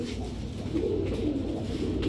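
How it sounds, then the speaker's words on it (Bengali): A male Babra pigeon coos, low and throaty, in a short repeated phrase, close by, with no talk over it. "দর্শক সিঙ্গেল বাবরা একটা নর কবুতর"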